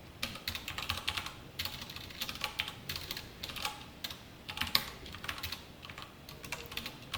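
Java code is typed on a computer keyboard in quick, close bursts of keystrokes that run steadily throughout.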